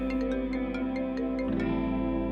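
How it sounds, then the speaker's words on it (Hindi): A phone ringtone plays as a steady tonal melody with regular, evenly spaced chimes, loud and continuous, with no voices over it, in a drama scene. "फोन आ रहा है आपका।"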